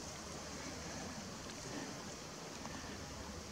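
A clear forest river flows in a steady, close rushing hiss while someone wades across it, with no other sounds standing out.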